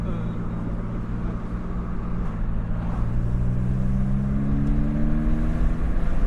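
A Porsche Boxster 986 roadster engine accelerates at high revs, a steady low drone that climbs gradually in pitch over several seconds beneath road and wind noise from inside the car.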